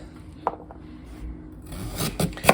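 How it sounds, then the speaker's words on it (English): A knife cuts scraped pieces of burdock root on a board, giving a few sharp close chops and rubbing scrapes, with soft shuffling between strokes. "I scraped down 2 more pieces, the larger ones, and I'm going to cut these"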